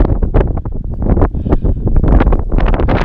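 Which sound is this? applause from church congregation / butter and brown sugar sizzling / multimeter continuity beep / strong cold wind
strong cold wind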